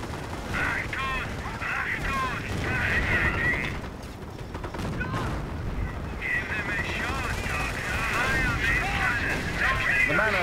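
Heavy gunfire and artillery fire in the World War II strategy game Company of Heroes, a continuous clatter of machine guns and booming blasts with someone talking over the din at times.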